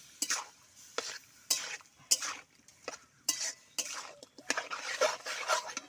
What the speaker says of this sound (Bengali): এই যে ভালো করে মশলাটা গায়ে মাখিয়ে নিচ্ছি